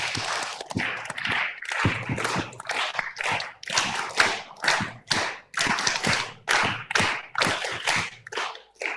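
An audience at a mentoring session claps in unison, a series of sharp, loud, rhythmic bursts repeating roughly every half second, close and forceful with brief gaps between claps.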